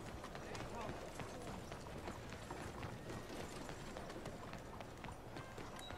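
Horse hooves clip-clopping at a run in a video game, arriving after a whistle call, steady rhythmic footfalls mixed under game music and talk throughout.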